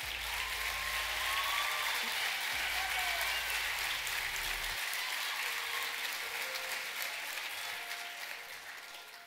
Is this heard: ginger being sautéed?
no